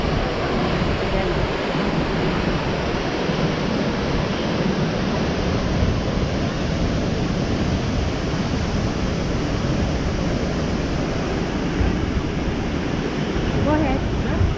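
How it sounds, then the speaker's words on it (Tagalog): Montmorency Falls in Quebec, a waterfall higher than Niagara, pouring in a loud, constant broadband roar with wind buffeting the microphone. "Morenci Falls is 30 meters higher than the mighty Niagara Falls."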